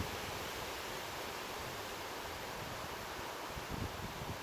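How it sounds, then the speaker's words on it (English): Steady wind rushes and roars in a dense, unbroken wash of broadband noise, loud and close throughout with only slight gusting near the end, and no voices. "that's a lot of wind."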